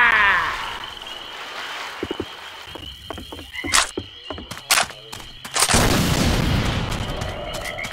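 Gunfire aimed at the Witch in Left 4 Dead 2, loud sharp bursts of shots and crashing game effects in a swamp setting, with a dense burst near the end.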